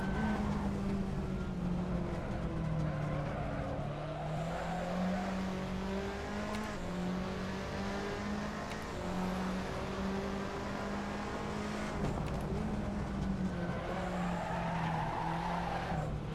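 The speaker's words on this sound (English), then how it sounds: "Gotta stop sliding those rears." A Fiat Tipo in a racing game at Barcelona, with its rear tires sliding and squealing over a steady, loud engine drone. The engine pitch rises and falls through the clip, and the tire noise stays continuous and close.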